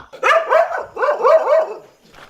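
A dog barks in a quick run of sharp, close barks, pauses briefly, then barks several more times.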